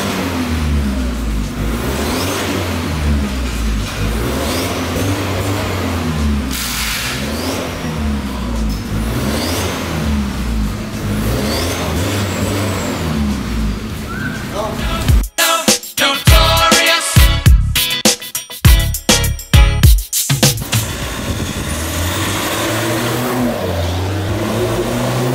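A 2023 Ford Ranger Raptor fitted with custom headers and exhaust idles loud and steady, then blips through a series of sharp revs before settling back to a rumbling idle.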